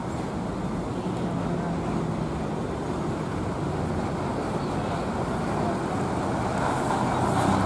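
A bus drives through Giwangan bus terminal in Jogja, a steady broad engine and road rumble rising slightly toward the end, with terminal traffic around it.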